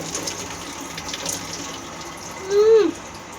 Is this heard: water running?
yes